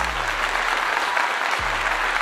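Steady, dense applause from an audience at a sports media talk about college football, loud and continuous with no speech over it.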